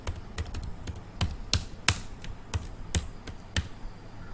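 Keys clatter on a computer keyboard while a shopping list label is typed into an app, a steady run of crisp, close taps with uneven rhythm and no talking.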